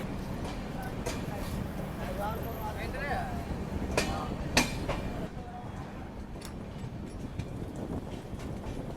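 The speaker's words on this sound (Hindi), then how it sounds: "पर ट्रेन जो है वो यहाँ पे रुक जाती है" The Avadh Assam Express rolls to a stop at Sonpur station, a steady rumble of carriages with a few sharp metallic clanks and brief squeals, while people talk nearby.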